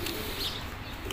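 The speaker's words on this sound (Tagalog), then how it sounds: "At yung ginagawa yung yun, kalapati mga kaworks. Good morning mga kalapati." Pigeons at a work site in New Zealand, a faint low cooing with a brief soft flutter of wings in the background.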